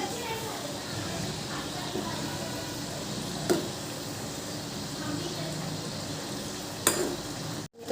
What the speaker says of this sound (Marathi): हलकासा गुलाबी रंग रंग येईपर्यंत आपल्याला हे कापण्यात तळून घ्यायचे आहे